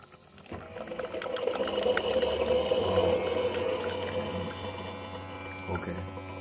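Coffee machine brewing espresso, a steady mechanical hum and whir running for several seconds close by, with faint voices in the room.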